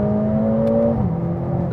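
A Mercedes-AMG A45 S engine revs hard and close up, its note dropping sharply as a quick gearshift lands about a second in, then pulling again.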